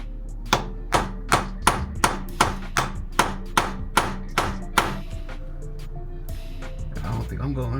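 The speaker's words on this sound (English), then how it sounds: "I'm gonna get the sledge on this one" A sledgehammer drives a transmission bushing into place during an SR20DET transmission and clutch swap, about a dozen sharp metallic strikes in an even rhythm, close and loud, followed by a pause and a brief voice.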